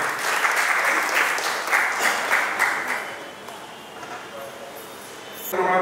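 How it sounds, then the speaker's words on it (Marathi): An audience at a cultural event applauds in a loud burst of clapping that fades after about three seconds, with a brief flare of claps again at the very end. "जोरदार टाळ्या होत्या त्यांच्यासाठी"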